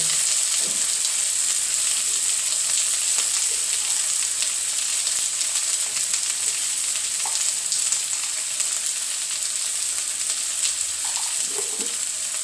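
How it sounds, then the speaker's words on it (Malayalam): Green chili, ginger, curry leaves and onion fry in a hot pan with salt for beef cutlets, a continuous close sizzling hiss with a few faint scrapes from stirring. "പച്ചമുളക്, ഇഞ്ചി, വേപ്പില, സവോള ഇത്ര സാധനങ്ങൾ നമുക്ക് വഴറ്റി കൊടുക്കാം"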